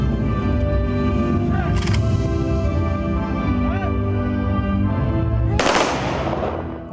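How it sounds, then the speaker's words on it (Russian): A ceremonial gun salute is fired at the opening of an alley honoring marshals: a few sharp rifle volleys crack out over a background of steady ceremonial music, with a louder, fuller volley near the end. "В честь торжественного открытия аллеи маршалов был дан оружейный салют."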